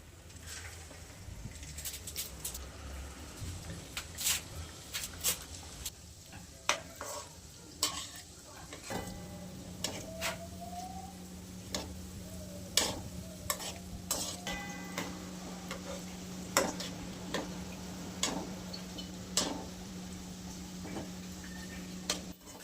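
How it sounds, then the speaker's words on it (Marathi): A second batch of crispy semolina medu vada fries in hot oil, a steady sizzle with frequent clicks and taps from a utensil stirring and turning the fritters, close and continuous with no talking. "सेकंड बॅच पण तळून घेऊयात."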